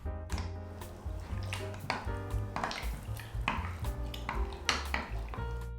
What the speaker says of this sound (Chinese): 把材料搅拌均匀。